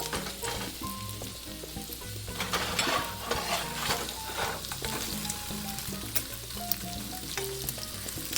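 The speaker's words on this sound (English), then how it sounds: "to flip the bacon" Bacon sizzles and spits steadily in a pan during a breakfast cook alongside pancakes, with occasional utensil clinks and scraping as strips are turned, close and continuous throughout.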